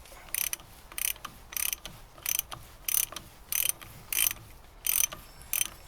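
A ratchet clicks in eight short, regular bursts while loosening bolts on the hub of a Land Rover 110 during a strip-down. The clicking is close and alone against a quiet background, with brief pauses between strokes.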